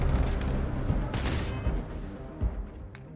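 Gunfire in the space game Starfield: a steady, moderately loud stream of shots and battle noise with a few sharper cracks, fairly close, with no talk.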